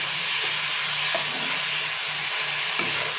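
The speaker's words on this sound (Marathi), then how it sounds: "आता ह्याच्यामध्ये मी जवळा टाकून घेणार आहे. आधी जवळा परतून घ्यायचं." Dried small shrimp (jawla) frying in oil with spices in a pan, giving a steady close hiss and sizzle with faint stirring taps throughout.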